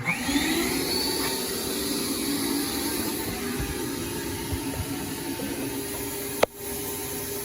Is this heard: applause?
no